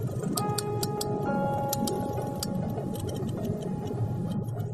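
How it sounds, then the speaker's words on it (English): Sperm whale coda clicks, short sharp ticks in a rhythmic Morse-like series, fairly faint beneath a sustained tonal background. "Rhythmic sequences of clicks that sound almost like Morse code."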